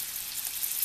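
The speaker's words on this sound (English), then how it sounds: "I'm deep frying them so you get a little bit of crispiness" Hot oil crackles and sizzles steadily as green bean pancetta bundles deep fry, a bright hissing fizz close by with no speech.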